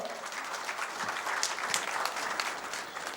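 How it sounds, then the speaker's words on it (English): An audience applauds the Honorable Minister at an APC party agents training event in Abuja, a steady burst of clapping from a crowd at moderate distance, without speech. "Please, can we applaud the Honorable Minister?"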